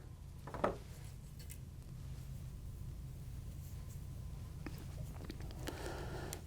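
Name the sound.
scissors cutting strands of a rabbit strip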